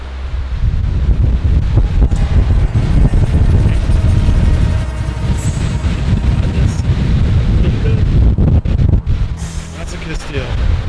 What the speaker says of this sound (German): Windstoß hier.